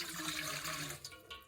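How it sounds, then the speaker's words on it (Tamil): Water runs and splashes steadily for idiyappam preparation on Illupai Poo Samba rice, a continuous close pouring rush that tapers off near the end. "தண்ணி விட்டுட்டு"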